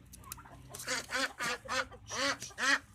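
Several loud quacks from domestic ducks nearby, coming in a quick uneven series of harsh nasal calls with short pauses between them.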